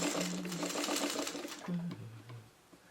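A sewing machine runs at close range, stitching fabric in a steady rapid chatter that slows, pauses, and then restarts briefly before trailing off.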